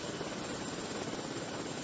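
An Indonesian National Police (Polri) helicopter flies over Yahukimo, Papua. Its rotor gives a faint, distant, continuous drone that stays steady with no talking.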